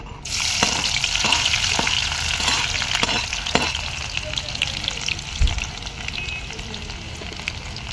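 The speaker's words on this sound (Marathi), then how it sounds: "कांदा चांगला तांबूस कलर येईपर्यंत भाजायचा." Onion frying in hot oil in a pan over a wood-fired stove gives a steady, fairly loud sizzle with a few stirring scrapes throughout.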